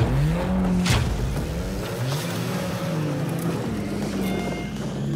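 A race car in a crash race is driven around a lap, its engine holding a steady loud drone with shifting pitch and a brief surge near the first second.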